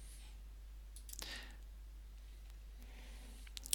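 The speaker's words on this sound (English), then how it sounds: "I click" A few soft computer mouse clicks, brief and sharp, over a low constant electrical hum in a quiet room, with a small cluster of clicks at the very end.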